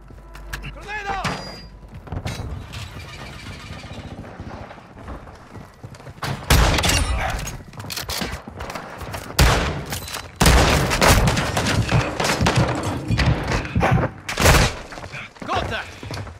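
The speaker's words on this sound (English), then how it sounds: "Grenade!" A grenade explosion amid dense gunfire in a shooter game, with rapid bursts, sharp cracks and heavy thuds packed close together, loud and near, while a voice shouts over the fighting.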